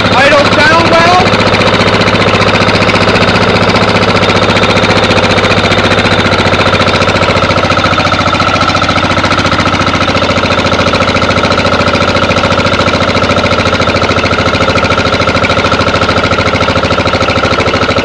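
A Yanmar diesel engine idling, a loud, steady close-up chugging drone with an even mechanical knock throughout and a sharper rattle at the start.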